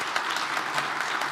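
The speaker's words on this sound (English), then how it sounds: "That deserves applause." A congregation at a Sunday worship service claps together, a dense, steady patter of many hands filling the room for a brief moment with no voices over it.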